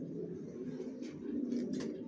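Janssen-line racing pigeons in a loft giving low, soft, continuous coos close by, with a few brief higher rustles or wing flicks toward the end.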